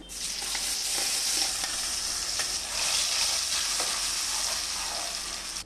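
Ground capsicum paste sizzles loudly in hot ghee for halwa, a dense, steady frying hiss with occasional stirring scrapes, close and continuous with no voices.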